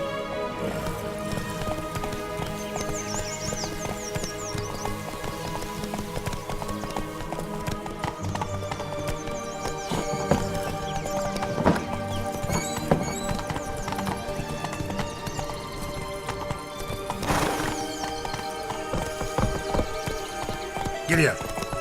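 Galloping horse hooves in The Witcher 3 drum in a steady, close clip-clop rhythm, joined by neighing and a rain-like patter, with occasional speech over the top.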